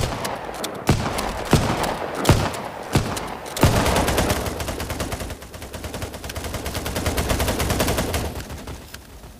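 Rapid automatic gunfire from a weapon in the mobile shooter Battle Prime, with a few sharp separate shots at first, then a dense sustained burst of loud, closely spaced shots to the end.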